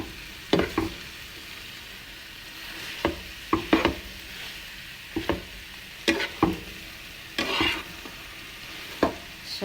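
Potatoes and eggplant stirred and frying in a pan, with a steady soft sizzle broken by repeated short scraping clatters of the spoon through the food, fairly close and without talk.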